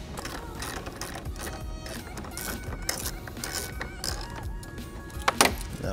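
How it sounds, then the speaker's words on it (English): A T25 Torx driver backs out two screws during intake removal on a 2018 Audi B9 S4, giving steady close metallic clicking and rattling with a sharper clack near the end. "now with our T25, we're gonna take these two screws out."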